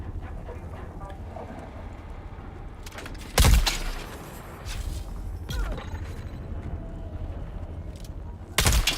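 Gunfire in a video game shows up as two sharp, loud shots several seconds apart, with fainter bursts of firing in between over a steady background.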